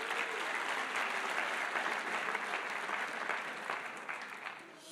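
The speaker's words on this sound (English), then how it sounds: "Can we give him a round of applause?" A church conference audience breaks into sustained applause, a dense, even wash of clapping that holds for several seconds and then gradually tapers off.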